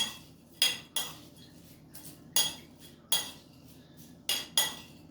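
Fried yufka pastry sheets tossed with sauce in a bowl for a kase böreği, with about seven sharp utensil clinks against the bowl at uneven intervals over a low, steady background hum.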